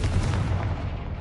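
A Confringo blasting spell in Hogwarts Legacy, a brief heavy booming blast with deep low rumble that fills the whole moment, loud and close with no talk.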